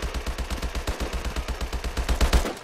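Rapid automatic gunfire from a weapon in Call of Duty Advanced Warfare: a steady, fast stream of close, punchy shots lasting under three seconds and growing slightly louder near the end, with no talking.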